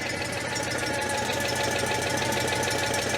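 A Citroën 2CV with a worn-out engine runs just after starting, a steady close idle with a rapid knocking, chugging pulse and even vibration, no voices.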